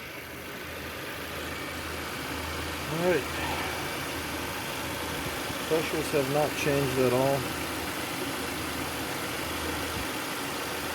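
A 2016 Audi A6 engine idles with a low steady rumble while someone speaks briefly over it; the A/C compressor is not building pressure.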